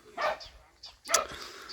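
Several farm dogs barking at a strange dog on the premises near a tractor and straw baler, a few sharp outdoor barks in quick bursts at moderate distance.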